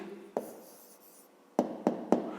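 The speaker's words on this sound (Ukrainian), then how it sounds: "Записуємо відповідь." A pen writes an answer to a math exercise by hand, a soft scratching stroke followed by three quick taps of the pen on paper, close and quiet.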